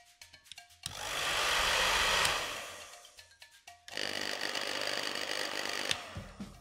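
A broken $20 hairdryer with a fan running slower than normal whirs in two close bursts, a loud sustained breathy roar that switches off and starts again, with clicks and thumps of handling between.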